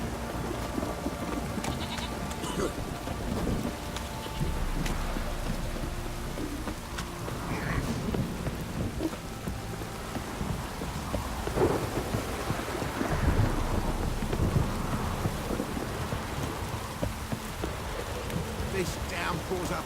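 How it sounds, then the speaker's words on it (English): Heavy rain and a rumbling thunderstorm in The Witcher 3, a dense, steady downpour hiss with low thunder swells building midway, faint voices partly under it. "This downpour's a bastard in it."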